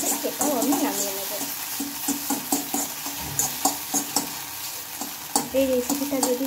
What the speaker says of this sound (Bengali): আবারও আমি অল্প একটু তেল দিয়ে নিয়েছি, আর আবারও আমি ডিমটা দিয়ে নিলাম